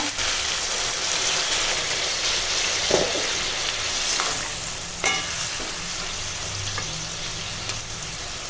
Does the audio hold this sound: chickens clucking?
no